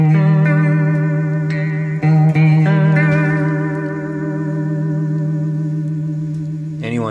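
A guitar runs through a Chase Bliss Warped Vinyl pedal on its right side preset, giving sustained chords with a warbling, wavering pitch, loud and close, and a few quick changes of chord near the start.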